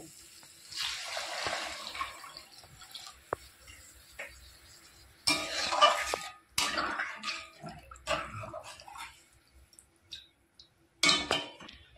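Water poured into a pan of lightly fried lentil dal, a splashing gush for a couple of seconds followed by later bursts of pouring and clinking utensils, quiet and close.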